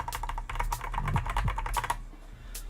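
Keys clacking on a freshly built mechanical keyboard, a quick uneven run of close, crisp keystrokes, then a brief pause and a final press, with no talk.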